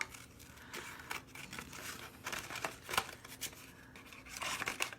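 Scissors snipping paper to collage onto a can, producing a close, quiet run of irregular cuts and crinkles with small rustles of the paper between snips.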